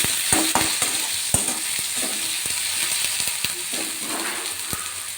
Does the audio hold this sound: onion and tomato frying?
yes